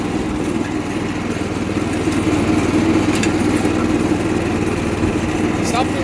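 An old Sears lawn tractor engine runs with its mower deck engaged, a steady close mechanical drone with a rapid pulsing rumble that carries on throughout, a belt rubbing on the pulley.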